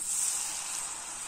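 Idli rice flour murukku dough frying in a small pan of hot oil, a steady bright close sizzle with no voices.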